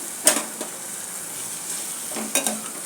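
Chicken frying in masala in a pan, a soft steady sizzle broken by two louder scraping stirs of a utensil, close by with no speech.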